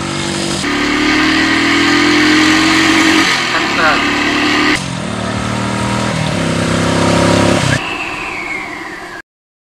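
A Royal Enfield 350 motorcycle, a Thunderbird or Classic, revs hard while pulling away in first gear, its loud, close engine note climbing in pitch in repeated surges before cutting off abruptly.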